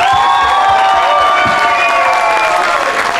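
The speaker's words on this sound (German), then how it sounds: "und dafür einen riesen Applaus" Loud crowd applause with cheering at the 2024 Nordhorn carnival parade, dense steady clapping and shouts filling the whole stretch, close and continuous.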